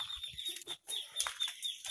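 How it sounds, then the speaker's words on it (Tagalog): Chickens cluck and chatter in a yard, with soft, scattered calls from several birds at a moderate distance. "oh, daming manok ni mother"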